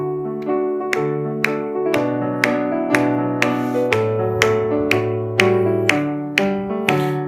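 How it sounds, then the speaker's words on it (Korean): A congregation claps in steady rhythm along to hymn 197, sharp regular claps over sustained organ or keyboard chords, with no spoken voices. "찬송가 197장 박수하며 찬송합니다."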